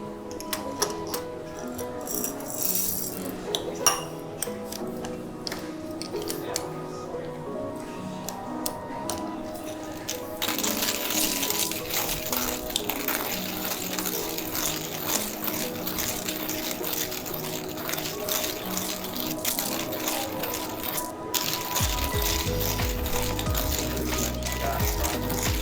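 A hand grinder crushing coffee beans for an inverted Aeropress gives a continuous gritty ratcheting crunch, close and steady, rising into a denser, louder grinding in the second half with no speech.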